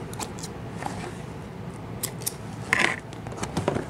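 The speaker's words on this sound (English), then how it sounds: "Cut the thread." Scissors snip thread beside a Janome MC9000 embroidery machine, giving a few short, close metallic clips over a quiet background.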